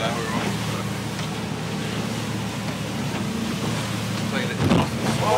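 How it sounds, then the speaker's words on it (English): Choppy water slaps and washes against a small boat in the Hauraki Gulf, where the wind is running against the tide. A continuous roar of wind and spray carries throughout, with a louder splash near the end. "these are pretty good waves"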